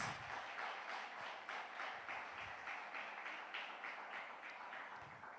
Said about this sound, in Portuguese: Irmãos, dá uma salva de palmas para Jesus.